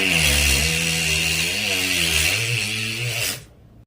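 A voice imitates a Diwali ground chakra (bhuchakra) spinning firework, making a loud, continuous buzzing hiss with a wavering pitch that holds for about three seconds before stopping abruptly.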